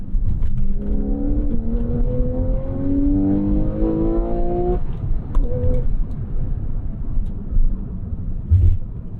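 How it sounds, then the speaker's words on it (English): A Porsche 911 Carrera 4S with all-wheel drive accelerates hard, its engine note climbing steadily through the revs for several seconds before easing off, loud and close with a steady rumble underneath. "That all-wheel drive putting the power down without any drama at all."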